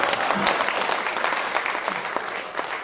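An audience at a Hindi poetry recital (kavi sammelan) in Kotma claps steadily throughout, a dense patter of many hands at moderate distance.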